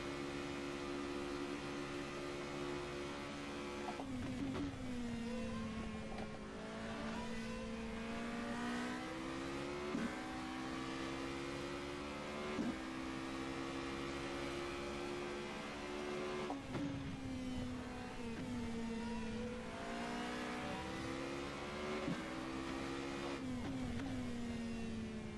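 A race car engine in a racing simulator game drones steadily through a lap, its pitch climbing under acceleration and dropping sharply at several gear shifts and braking points, alone and without talk.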